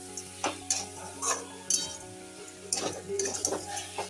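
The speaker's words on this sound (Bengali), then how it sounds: "চিনিটা দিয়ে আমি এখন নাড়তে থাকবো।" A utensil stirs mango and sugar in a pan for quick mango pickle, giving irregular metallic clinks and scrapes every half second or so, close but fairly quiet, with a faint sizzle between strokes.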